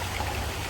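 Water flowing steadily in a soft continuous trickling stream, moderately close, with no voices.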